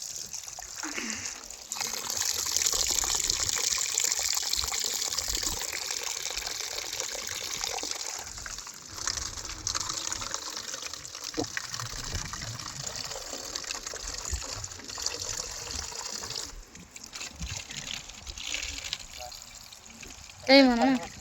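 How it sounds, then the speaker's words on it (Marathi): Running water pours and trickles into a drinking bottle out in a bajra millet field, a continuous splashing flow that fades and returns, with voices talking over parts of it. "मस्त पाणी चालू आहे."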